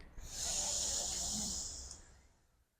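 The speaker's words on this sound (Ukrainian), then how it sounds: "Видих, вдих. Видих, вдих. Видих, вдих." A single long, breathy inhale and exhale during yoga on a terrace, close and hissy, swelling and then fading out over about two seconds.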